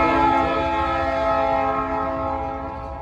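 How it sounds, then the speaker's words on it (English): An active passenger train in Uxbridge, Massachusetts sounds its horn nearby, a steady multi-tone blast held for the whole stretch and slowly fading, over a low rolling rumble. "Active train still in Mass."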